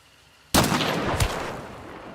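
Explosive-ammo gunfire in a video game, shooting through brick walls: a sharp loud shot bursts in abruptly, then a second report follows with a lingering blast rumble and crackling tail, no talk.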